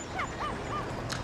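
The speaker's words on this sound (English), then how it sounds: "That awful dog." A dog gives a few short high yips and whimpers, three quick arched cries in succession followed by a brief sharper burst, fairly close over a steady room background with no talk.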